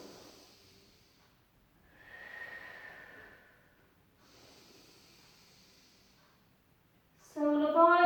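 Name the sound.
breathing in during a pilates exercise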